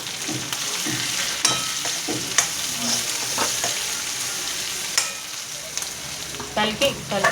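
Capsicum curry with salt sizzles in a pan as a spoon stirs and scrapes, giving steady frying hiss punctuated by irregular clinks and scrapes.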